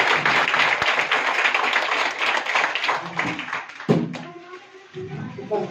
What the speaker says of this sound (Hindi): ताली बजाइए एक बार।